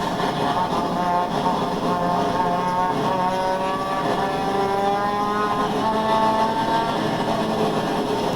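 A race car drives on a race track, its engine holding a loud, sustained whine that shifts pitch as it runs through the gears, close and continuous.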